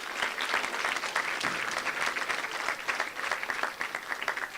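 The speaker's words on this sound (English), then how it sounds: "Let's give her another applause." Sustained audience applause at a senior promotion ceremony for a preparatory academy, steady dense clapping from a crowd lasting throughout with no talk over it.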